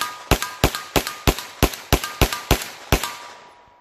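A CZ 9mm pistol fires ten sharp, evenly spaced shots of light 115-grain Blazer ammo in quick succession, each crack loud and close with a brief ringing decay.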